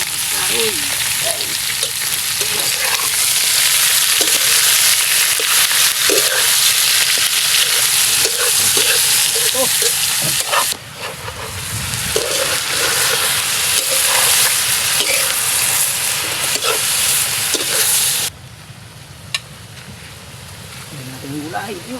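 Fish frying and stirring in a pan of oil for ginataang surahan, a Filipino coconut-milk dish with okra, giving a loud steady sizzle that drops briefly and resumes, with voices talking in the background.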